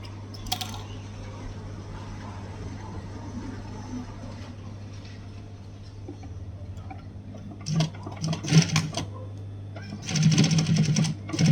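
A sewing machine stitches the lining of a crochet bag in short bursts of rapid mechanical rattling, starting after a long stretch of low hum and quiet handling, close and moderately loud.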